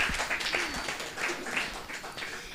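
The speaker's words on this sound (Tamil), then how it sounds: "கைத்தட்டி உற்சாகப்படுத்துவோம்." An audience at a church Christmas program claps together, producing dense, continuous applause at moderate volume for a couple of seconds.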